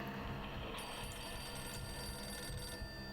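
In a Nancy Drew video game, a telephone rings with a bright electronic trill that starts partway in and holds for about two seconds before stopping, faint and alone.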